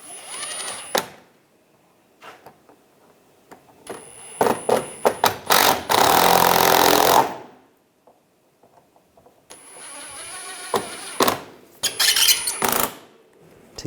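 A power screwdriver drives screws into the headlight assembly of a 2013-2016 Dodge Dart in several short whirring bursts, with one long run, separated by quiet pauses and light handling clicks, close up.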